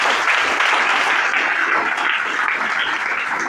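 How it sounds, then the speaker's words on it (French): An audience applauds at a Christian gathering: dense, steady clapping that stays loud and even for the whole stretch, with no voices over it. "Acclamons très bien pour le Seigneur."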